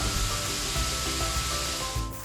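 Burgers sizzle steadily on a hot grill, a continuous, even hiss and crackle at close range with no talking.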